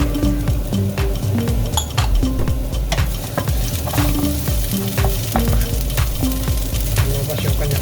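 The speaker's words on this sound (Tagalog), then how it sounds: "Igisa tayo. Kailangan natin mag-golden brown. Sunod natin yung ginger." Onion and ginger sizzle steadily in oil in a pan for Bicol Express, with repeated close clinks and scrapes of a utensil stirring against the metal throughout.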